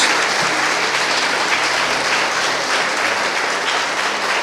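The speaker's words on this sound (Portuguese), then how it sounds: "E vamos dar uma salva de palmas bem forte para o nosso Deus." A church congregation claps together in loud, dense, sustained applause that fills the room, steady from start to finish with no talk over it.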